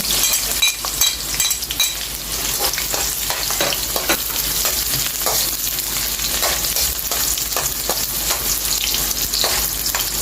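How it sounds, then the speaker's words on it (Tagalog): Onion and garlic sautéing in a pan for chicken adobo, with a steady close sizzle throughout and repeated scrapes and clinks of a spoon stirring against the pan. "Ang next ko ay sibuyas muna tayo guys. Igisa lang natin siya. Sunod, bawang."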